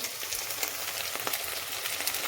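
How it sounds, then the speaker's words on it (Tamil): Curry leaves and ginger garlic paste sauté in a hot pan, giving a steady, close sizzle and crackle with small pops throughout and no voices. "இஞ்சி பூண்டு ஸ்மெல் போனதுக்கப்புறம் நம்ம கொஞ்சம் கருவேப்பிலை ஆட் பண்ணிக்கலாம்."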